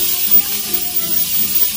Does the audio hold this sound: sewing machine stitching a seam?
no